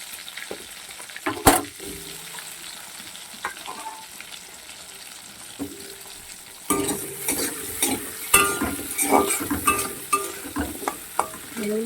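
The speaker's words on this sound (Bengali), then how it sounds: "একটু লাল লাল করে ভেজে নিতে হবে" Potatoes fry in a pan with a steady hiss and sizzle, broken by clattering stirs of a utensil that grow louder and busier in the second half.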